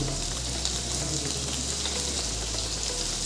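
Fish frying in a pan, browning in oil, with a steady dense sizzle throughout and no talking.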